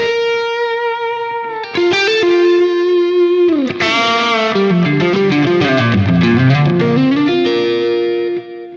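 Electric guitar through the Fractal FM3 Liverpool Lead amp preset, with a long sustained lead note followed by a bend and a quick descending run, loud and saturated with no speaking.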